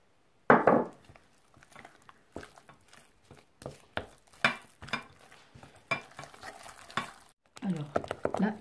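Melted butter is stirred into a cake mixture in a bowl with a run of irregular scraping, tapping strokes, close and moderately loud, separated by short quiet gaps.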